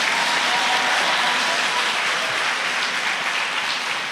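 An audience at a school awards gala applauds a winner, the dense clapping filling the hall steadily and loudly before easing slightly near the end.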